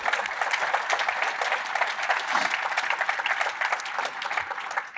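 Audience applause welcoming panelists at an MIT panel on the future of quantum, dense steady clapping from a crowd in a hall, sustained at even loudness for the whole stretch.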